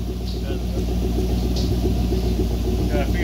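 An LS-swapped Subaru idles with a low, steady engine rumble, and a belt gives short chirps at intervals over it. People talk nearby.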